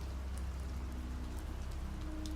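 Steady rain falls without pause, an even dense hiss with faint scattered drops pattering on a surface, and no voices.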